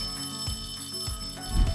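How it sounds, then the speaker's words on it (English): A school class bell rings with a steady, continuous metallic tone, accompanied by a few dull thumps. "It's the class bell, and it means that it's time for recess."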